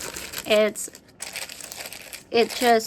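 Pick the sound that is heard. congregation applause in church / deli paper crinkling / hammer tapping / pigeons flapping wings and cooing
deli paper crinkling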